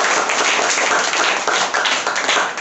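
A classroom of primary-school students applauds together, dense steady clapping close and loud with no gaps, filling the room.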